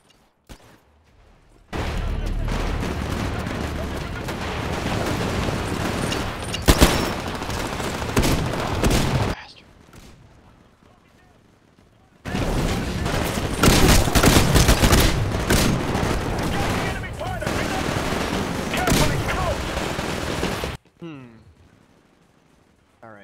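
Dense gunfire from the video game Titanfall, with heavy bursts of rapid shots and booms in two long loud stretches separated by a brief quieter gap.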